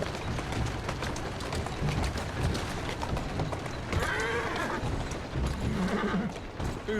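A horse neighs and its hooves clop as it pulls a carriage through the streets in Assassin's Creed Syndicate, the whinny rising briefly over a dense, steady bed of game noise.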